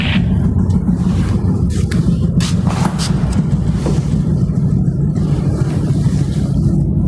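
Steady low machine rumble in an old abandoned factory, a continuous engine-like drone holding at even loudness throughout with faint scattered clatter above it and no speech.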